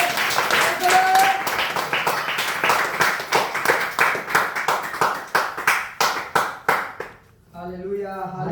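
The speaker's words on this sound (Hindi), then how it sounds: "परमेश्वर की महिमा के लिए ताली बजाओ जोर से।" Congregation at a Hindi-language church worship service clapping loudly in a steady rhythm for about seven seconds, with a preacher's voice over it, before the clapping stops and speaking continues.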